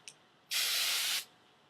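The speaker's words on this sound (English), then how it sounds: "you're going to take your hairspray on your bangs and just hold them back a little bit" Hairspray sprayed onto bangs while curling hair: one loud, close hiss lasting under a second, with quiet before and after.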